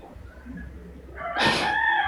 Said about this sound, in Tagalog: Ewan ko ba sa mga manok dito? Walang pinipiling oras.